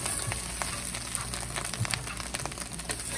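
Bitter melon slices frying crispy in a pan, a continuous dense crackling sizzle with faint irregular pops and light stirring.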